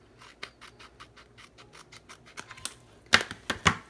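Non-stick scissors cutting around the edge of a glued paper postcard, a quick steady run of close crisp snips that grows louder toward the end, with no talking.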